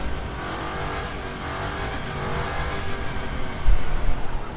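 A Dodge Demon muscle car in The Crew 2 roars steadily at speed, a dense continuous engine drone with faint tire noise, loud and unbroken, swelling slightly near the end.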